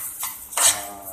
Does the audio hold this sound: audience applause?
no